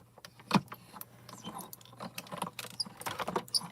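A Hero Arts hot foil machine feeds Crafty Critter paper and hot foil through its rollers. It gives a close, steady motor hum with scattered rattling clicks and soft clatter, and no one speaks.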